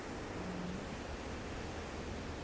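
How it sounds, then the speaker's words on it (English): Steady rain falls in the No Man's Sky game world, a dense even hiss that holds at moderate level throughout with no other sounds over it. "It'd be nice if it wasn't raining."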